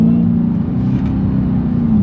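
A Dodge Challenger Hellcat, a roughly two-ton car, drives along the road with a steady, loud, low engine drone and road rumble that stays constant with no clear revving.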